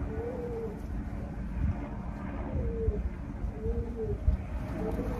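A blue check racing pigeon coos several times in low, rolling phrases, fairly close, against a rustling, noisy background.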